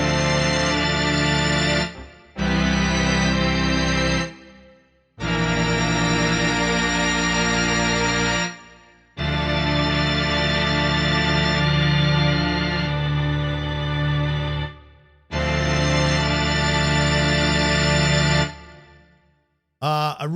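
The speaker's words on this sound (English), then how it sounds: "throwing a reverse reverb on that" Sustained Mellotron high strings, transposed upward and fed through a reverse reverb with a stereo widener, play in four loud phrases separated by short silences, with no talking.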